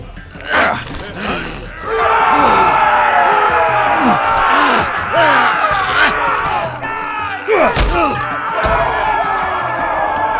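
An arena crowd roars and jeers in a Game of Thrones Telltale game, swelling shouts and bellows over overlapping character voices and grunts, loud and busy throughout.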